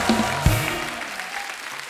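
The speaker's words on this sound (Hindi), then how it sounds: "जोरदार तालियां हो जाए हमारे मेहमानों के लिए" A studio audience at a Kapil Sharma comedy talk show claps loudly for arriving guests, with a dense burst of applause that peaks quickly and then thins out.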